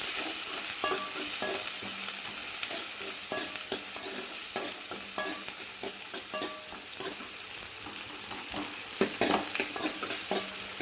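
Onions sautéing in a pan for drumstick leaf chutney sizzle steadily up close, punctuated by regular scraping and tapping stirs of a ladle, with no speech.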